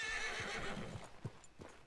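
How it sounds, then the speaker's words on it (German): A horse in Red Dead Redemption 2 gives a clear, close whinny, followed by a few soft hoof clops, with no voices. "Das ist ein Pferd."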